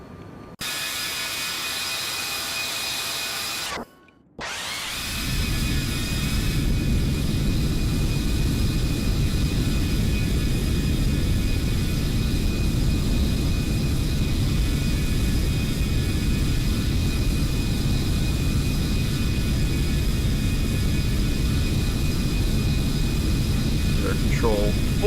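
Twin jet engines of a CRJ 700 airliner in X-Plane 12, heard from outside the aircraft: after a brief quiet moment and a sharp cut, a loud, steady broadband roar with a faint high whine swells in and holds.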